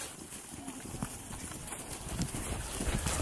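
Horse hooves clip-clop over ground on a family trail ride, a steady close rhythm of soft thuds running under wind noise and background chatter.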